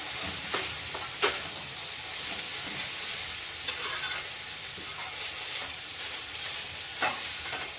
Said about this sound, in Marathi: छान परतवून घ्यायचं आहे